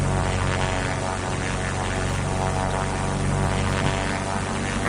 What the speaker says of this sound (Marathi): आता आपला प्लेन उडवायला घेतलेला आहे